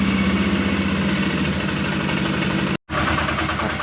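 A small engine on an off-grid homestead idles roughly with the throttle held open to warm up, a loud steady chugging drone broken by a short cutout before it picks back up.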